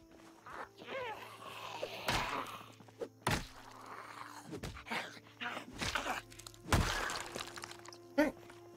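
Nightstick melee hits landing in Project Zomboid: several sharp, loud thwacks spaced irregularly over a busy game soundscape, with a low constant hum underneath.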